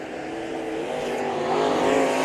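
Race cars in a heat race at Bakersfield Speedway roar steadily past, a dense layered engine drone that swells louder toward the end, with no voices over it.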